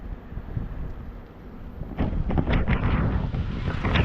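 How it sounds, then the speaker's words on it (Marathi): Cold wind buffets the microphone with a low, rumbling roar that grows stronger and gustier halfway through, with no one speaking. "थंड वारा चालू आहे मस्तपैकी"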